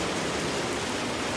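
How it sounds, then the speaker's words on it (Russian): Heavy rain pours down steadily at a fishing spot, a dense, even hiss of downpour close by with no break, no voices over it. "Там дождь льет сумасшедший."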